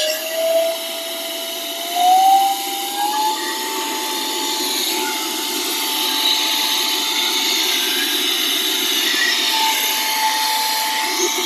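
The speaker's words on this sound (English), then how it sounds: "Let me show you how strong the air duster is." A 51000 RPM rechargeable electric air duster blows outdoors, giving a steady high-pitched whine whose pitch steps up twice early on before holding level over a broad airy hiss, with no talk.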